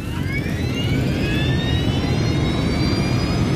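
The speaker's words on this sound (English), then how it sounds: "Flight 358 powers into the sky above Paris." Air France jet airliner taking off from a Paris runway, a loud, steady broadband engine roar with rising whining tones, sustained and close throughout, with no talk.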